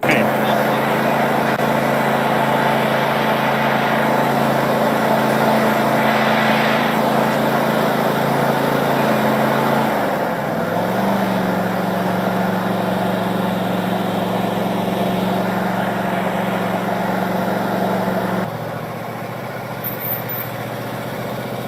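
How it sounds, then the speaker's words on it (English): A tractor engine runs steadily throughout while being driven, with a constant loud hum that shifts pitch midway and drops slightly near the end, and a voice is heard speaking over it. "And I'm just driving my tractor."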